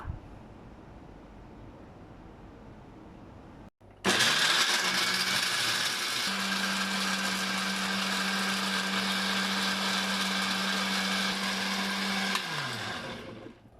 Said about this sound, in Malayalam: ചൂട് പോയതിന് ശേഷം ബ്ലെൻഡറിലിട്ട് ജസ്റ്റ് ഒന്ന് അരച്ചെടുക്കാം